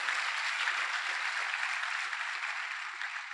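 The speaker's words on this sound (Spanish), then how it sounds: "Démosle al Señor un fuerte aplauso." Broad, steady applause from a church congregation fills the whole stretch, even and sustained without letting up.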